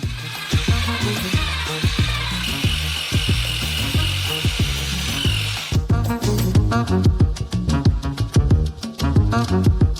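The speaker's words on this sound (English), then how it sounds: "With the help of a construction mixer, we mix them." Construction mixer whirring through sugar and water in a basin, a steady motor buzz with scraping, loud and close over background music, its tone shifting partway through.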